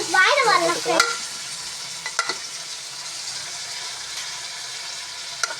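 Vegetables being sautéed and stirred in a pan, with a steady broadband sizzle throughout and a few clear scrapes and clinks of the spoon, loudest at the start.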